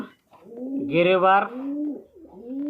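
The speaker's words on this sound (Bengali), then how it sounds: "এখানে আরও এক জোড়া কবুতর আছে" Low, throaty pigeon cooing close by at a pigeon farm, a few rolling coos in quick succession, with a person's voice partly over it.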